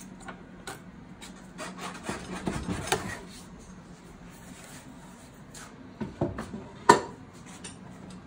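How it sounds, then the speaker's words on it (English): Scraping a tight-fitting wooden furniture joint to trim it for refitting, with scattered rubbing and rasping strokes, a few sharper scrapes and one clear knock near the end, fairly close and moderately quiet. "I can scrape a bit off. And then refit."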